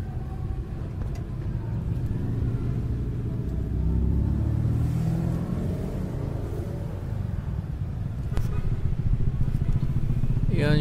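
At a moto bazaar a motorcycle on a test ride rumbles close by, its engine swelling in a steady rev midway with a brief rise near the end, while faint voices murmur around it.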